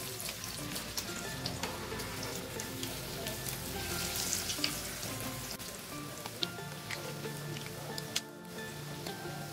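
Bread pakora, potato-stuffed slices, frying in hot oil with a steady, close sizzle and crackle throughout, bubbling evenly with a few brief louder pops near the end.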